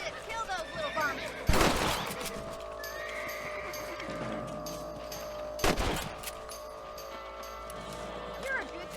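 Two sharp rifle shots, several seconds apart, ring out while rabbits are hunted in the Red Dead Redemption video game, over quieter outdoor ambience with animal calls.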